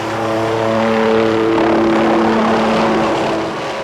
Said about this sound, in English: letting a state helicopter douse the flames from the air